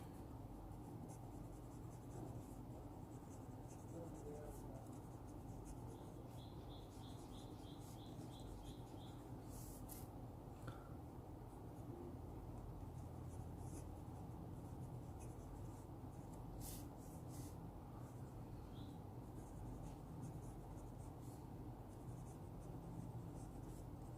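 A handcrafted Syahi kingwood fountain pen with a medium steel nib writes on paper, giving a steady, soft, continuous scratching that runs for the whole stretch against a quiet background.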